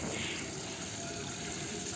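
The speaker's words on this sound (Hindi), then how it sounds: "अभी मतलब पानी डाल रहे हैं" Water is poured steadily onto a rooftop, a continuous hissing splash at low, even volume with no break.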